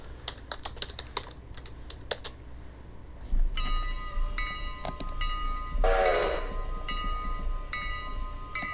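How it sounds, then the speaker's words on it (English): Train sounds play from TV speakers in a train simulation game: a horn blares and a rumbling train passes, mixed with close, steady clicking of computer keyboard typing throughout. "That's a train on the TV."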